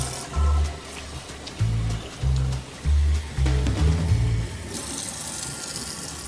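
Rice is washed in cold water at a kitchen sink, with the tap running in several uneven bursts, water sloshing and swirling as the grains are rinsed, and no voices heard.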